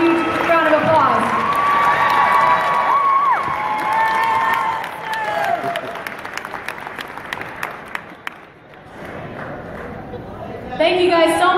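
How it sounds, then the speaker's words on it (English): Audience applause and cheering at a kids' art auction, loud clapping with whoops and shouts from the crowd that settles to scattered claps before rising again, with people talking over it. "You guys give Allison a huge round of applause."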